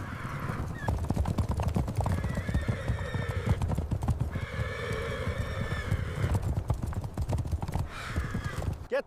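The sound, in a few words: horses' hooves clopping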